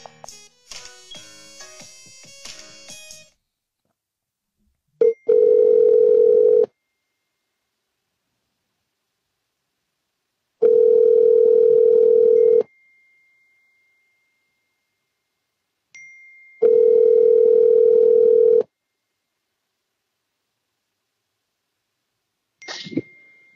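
Phone line tones sound while someone calls a list of numbers: several long steady electronic beeps separated by silences, preceded by a quick burst of keypad dialing tones, clear and close.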